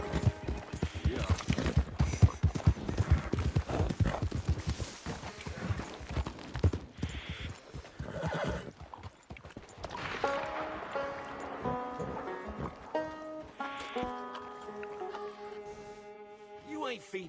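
Horse hooves in the video game Red Dead Redemption II clip-clop in a quick steady rhythm, then slow and fade as voices talk over the top.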